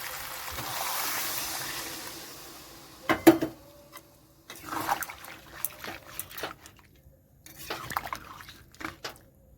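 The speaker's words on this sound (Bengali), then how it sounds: "এখন আমি এখানে জল দিয়ে দিচ্ছি" Water poured into a pan of braised chicken that has already released its oil gives a trickling, dribbling pour with several separate bursts and small clatters, close by and moderately quiet.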